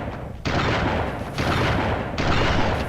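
Three heavy shotgun blasts boom one after another, each with a sharp onset and a long roaring tail, fired at a spider in the video game Army Men: Sarge's Heroes.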